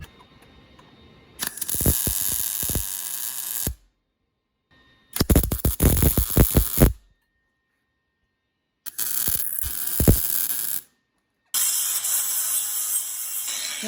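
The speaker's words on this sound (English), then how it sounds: "So I'm gonna weld this to the backside of here." Welding a bracket onto the frame of a Cat-swapped Ford F350 truck, four separate bursts of loud, crackling arc hiss, each lasting a couple of seconds, with silent gaps between them.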